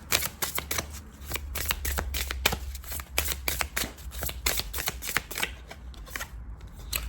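Deck of Ancestral Healing oracle cards shuffled repeatedly up close, a rapid run of crisp riffling flicks and taps in an uneven rhythm, with no speech over it.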